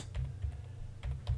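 Computer keyboard keys tapped in a few quick bursts, close but quiet, with short pauses between clusters of keystrokes and no talking.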